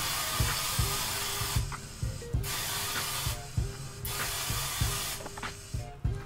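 Repeated short sprays of hair oil from a pump bottle, each a crisp hiss, about a dozen bursts in quick irregular rhythm, close by.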